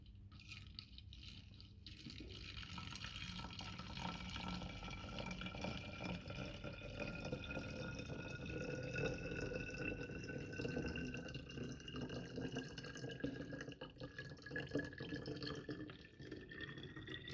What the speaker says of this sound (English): then you just add your water into the container